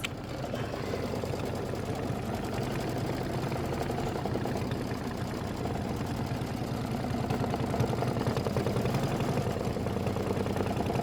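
Embroidery machine stitching an applique tack-down over fabric on a quilt block, a continuous even mechanical whir with a rapid stitching rhythm, steady and close throughout with no voices.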